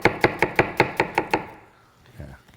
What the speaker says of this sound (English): the mushrooms, I'm not slicing them too thin